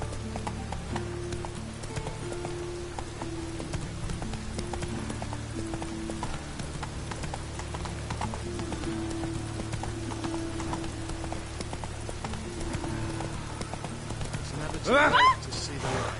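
In The Witcher 3 on PS4 Pro, a horse's hooves clip-clop in a steady galloping rhythm over game music and ambience, with a voice speaking briefly and a louder burst near the end.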